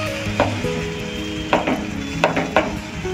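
Milk being stirred into a modak mixture in a nonstick pan, with a soft steady sizzle and several sharp scrapes of a utensil against the pan at irregular intervals, close and fairly loud, with no talk.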